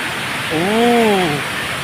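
Water pours down the Palasdari waterfall in Karjat as a constant, loud rushing roar, and a short voice rises briefly over it near the middle.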